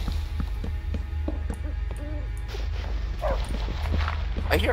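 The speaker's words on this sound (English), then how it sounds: "I heard a dog again. Where's this dog?" Dog barks and yips from a Krampus hunting video game sound in short bursts over low ambient game noise while players talk over them.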